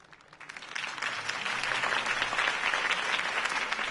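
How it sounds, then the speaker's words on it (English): A video game crowd breaks into applause after a speech; it swells quickly and holds as a dense, steady roar of clapping. "If only Mr. Wayne, my campaign's largest backer, could have heard that applause"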